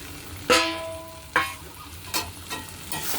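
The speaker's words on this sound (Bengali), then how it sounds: "দিয়ে আমি পাঁচ মিনিট এটা ভালো মতো কষিয়ে নেব" Jackfruit, prawn and potato curry cooking in a pan for a Bengali echor chingri dish, with a few sharp clattering stirs or additions at uneven intervals over a low sizzling bed, close and fairly quiet.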